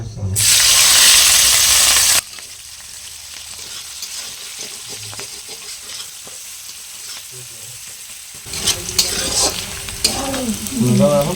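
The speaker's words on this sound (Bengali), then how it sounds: "বাকি তেলের মধ্যেই কাঁচা লঙ্কা কুচি, পেঁয়াজ কুচি আর রসুন এরকম অর্ধেক থেঁতো করে নিয়েছি, দিয়ে দেবো" Chopped green chili, onion and half-crushed garlic dropped into leftover oil, a loud burst of sizzling at first that settles into a softer fry with stirring, a voice talking toward the end.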